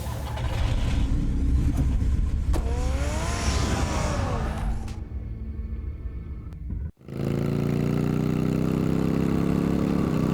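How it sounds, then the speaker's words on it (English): A car engine in a Batman video game runs loud and steady, a dense rumbling drone that cuts out for a split second partway through before resuming just as strongly. "Get the car ready, Alfred."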